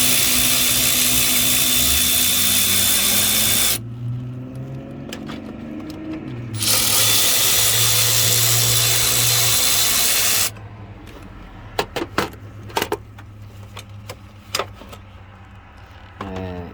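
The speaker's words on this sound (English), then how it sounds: "Next, you have to take off these 2 nuts right here that clamps your battery in place." Ratchet wrench loosening the battery hold-down clamp nuts on a 2015 Honda Pilot, with long stretches of close ratcheting clicks, then scattered metallic taps and clinks.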